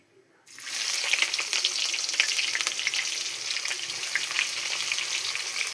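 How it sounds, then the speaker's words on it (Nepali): Onions drop into hot oil left from frying meat in a kadai, a sudden loud sizzle that starts after a brief quiet and then holds as a steady, close crackling hiss. "त अब यसमा चाहिँ मैले अब हाल्न जाँदैछु प्याज।"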